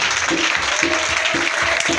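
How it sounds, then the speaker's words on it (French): A church congregation claps loudly in a steady rhythmic beat, many hands together, with a bright cheering wash on top. "Une forte acclamation au Seigneur."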